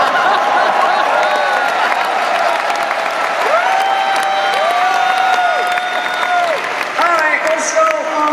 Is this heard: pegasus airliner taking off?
no